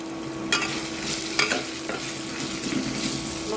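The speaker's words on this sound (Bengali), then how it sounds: "মশলাটা এখন ভালোভাবে কষতে হবে।" Ground chili and turmeric being stirred and fried in a pan, a continuous close sizzle broken by a few sharper scraping strokes of the spoon, with no talking.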